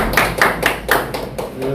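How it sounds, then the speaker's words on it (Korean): Audience clapping in a Korean lecture hall as a professor is welcomed to give a talk, a few distinct bursts of hand claps with a voice speaking over them. "박수로 먼저 드리겠습니다."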